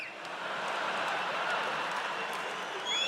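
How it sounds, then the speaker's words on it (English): Steady applause from a stand-up comedy audience, a sustained wash of clapping and crowd noise for several seconds with slight swells near the end. "Ladies, you shouldn't be applauding that."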